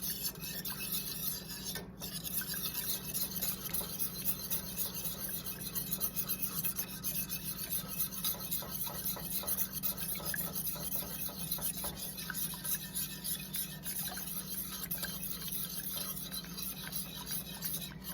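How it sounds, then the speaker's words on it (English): A spoon works through thickening tangzhong, a cooked flour-and-water paste in a pan, giving a steady low rasping scrape that runs continuously for the whole stretch with no talking. "we're gonna continue mixing this because we also don't want it to burn"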